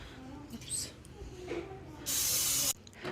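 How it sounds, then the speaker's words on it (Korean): A short, loud hiss of butter spray is aimed onto bread dough left to rise, standing out clearly near the end over quiet kitchen background sounds. "저는 이 스프레이를 뿌려줄게요. 버터 스프레이를."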